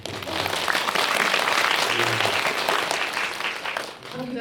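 An audience at a film Q&A screening bursts into steady, full applause that holds for about four seconds before thinning out, with a voice faintly beneath it.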